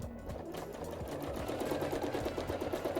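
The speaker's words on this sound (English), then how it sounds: "Quilting through your letters." A sewing machine runs steadily through free-motion quilting, stitching cursive letters into a quilt, its fast rhythmic needle chatter continuous and close for the whole stretch.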